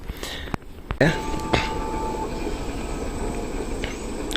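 The KA Ijen passenger train passes close by, hauled by vintage-livery locomotive 9201, with a few sharp clanks before a loud, steady rumble of rolling wagons and faint wheel squeal.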